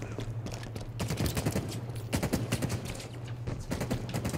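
Dense, continuous gunfire fills a video game battle, many overlapping shots crackling rapidly and unevenly at moderate loudness over a low steady hum.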